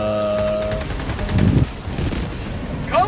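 Air strike explosions and gunfire in a video game: dense booming blasts and rapid shots layered over a steady rumble, loud and close, with a brief lull and more bursts near the end.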